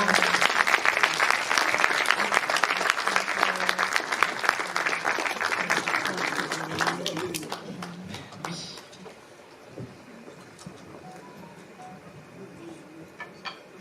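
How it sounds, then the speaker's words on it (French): Dense audience applause at an award tribute ceremony, loud and steady for several seconds, then fading into scattered claps with a few voices murmuring beneath. "Oui, applaudissez-la."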